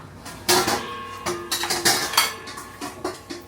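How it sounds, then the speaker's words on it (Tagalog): Plates and utensils clatter and clink in irregular bursts while dishes are washed, close and fairly loud, with quieter scraping between the knocks. "Naghuhugas ng plato, tapos si Unyol nagluluto."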